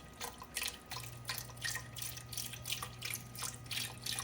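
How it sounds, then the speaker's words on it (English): Milk poured slowly into a pot while making blue crab bisque, a soft continuous trickle with light splashing and dripping, close and fairly quiet, with a steady low hum underneath. "Now you slowly pour in the milk."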